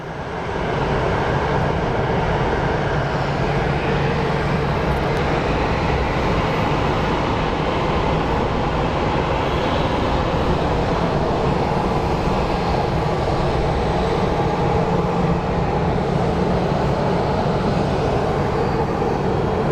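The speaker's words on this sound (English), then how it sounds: "So there's our A350 we waited for." Airbus A350 jet at Phoenix Sky Harbor, a steady, loud, broadband engine roar that holds close and constant for the whole stretch without fading.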